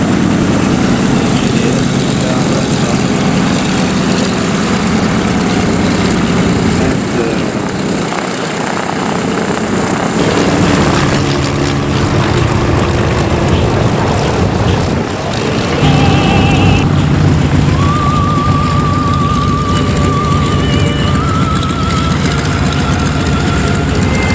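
Propeller aircraft fly at the Duxford Flying Legends air show, including a Douglas DC-3 Dakota, with a loud, continuous engine drone that swells and fades as they pass overhead.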